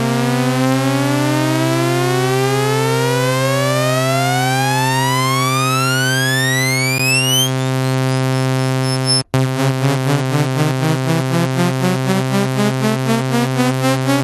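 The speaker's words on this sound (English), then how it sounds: "If you want to make a riser, here's how you make a riser." A synthesizer riser built with oscillator and envelope controls: a loud, harmonically rich synth tone sweeps steadily upward in pitch for several seconds, cuts off abruptly, then restarts as a dense buzzing chord, with no voices.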